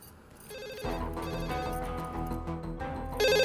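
A telephone rings with a repeating electronic ringtone over a dense musical background, moderately loud throughout and growing stronger near the end, with no talking.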